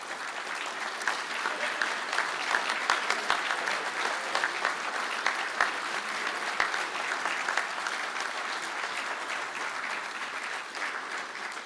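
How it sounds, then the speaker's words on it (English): Graduates at a Galway city conferring ceremony applaud their families, a dense sustained round of clapping from a large indoor crowd that gradually eases. "give a round of applause to your families as a little thank you for all their support"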